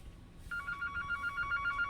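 Telephone ringing, a bright electronic trill that starts partway in and repeats in quick, even pulses, moderately close with faint background noise.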